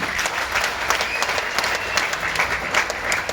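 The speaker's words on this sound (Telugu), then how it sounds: "ఒకసారి గట్టిగా బిగ్ రౌండ్ ఆఫ్ అప్లాజ్ మీకు" Applause from a business seminar audience: a dense, continuous crowd clapping at steady loudness throughout, with no talk over it.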